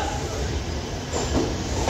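A short burst of train rumble and clatter as a passenger train departs Dhanbad station, steady and fairly loud, with a faint voice underneath.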